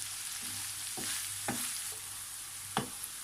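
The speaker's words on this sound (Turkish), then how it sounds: "Ara ara karıştırarak 5 dakika kadar kavurdum." Green beans and bulgur stir-fried in a pan, a steady broad sizzle running throughout with a few sharp scrapes of stirring at irregular moments, close and fairly loud, no talk.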